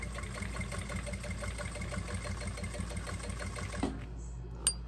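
A sewing machine runs steadily with polyamide thread, a close, continuous rapid whirring stitch that stops near the end, followed by a couple of small clicks.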